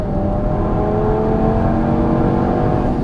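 A 540 hp Audi TT RS tuned by 034 Motorsport accelerating hard with a manual clutch, a steady loud engine drone rising slightly in pitch, heard close from inside the car with no talk.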